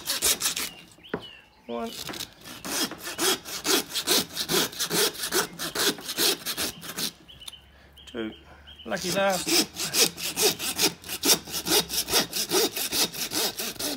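Steady back-and-forth rasping of a hand saw cutting through lamb forequarter bone in rhythmic strokes, with brief pauses where a man counts aloud.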